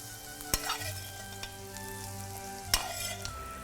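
Shrimp sautéing in a pan, a continuous low sizzle broken by two sharp metallic knocks and a few lighter taps of a utensil, with a hum beneath.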